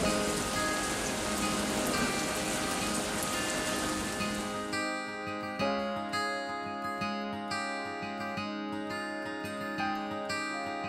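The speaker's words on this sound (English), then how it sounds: "It's another rainy day." Rain falls outside in a steady, even patter. A few seconds in, a music track with sustained notes comes up over it.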